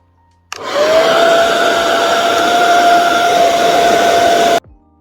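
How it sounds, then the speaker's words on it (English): A hair dryer switches on and blows with a loud, steady whooshing hum and a faint whine for about four seconds, then cuts off. "let me just use my hair dryer just so that everything is quick"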